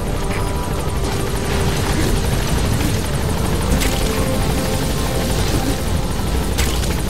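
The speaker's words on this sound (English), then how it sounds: "Support helicopter" Support helicopter from Metal Gear Solid 5 with a steady, loud rotor roar that continues throughout, with no one speaking.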